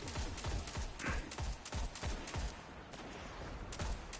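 Rapid gunfire in a video game firefight against snipers, a dense run of sharp, evenly spaced shots over several seconds, loud and continuous with no speech.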